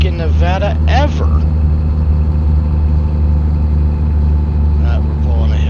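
Truck engine in American Truck Simulator hauling a lowboy tank load uphill in Nevada, a steady low droning labouring rumble, with someone talking briefly near the start and again near the end.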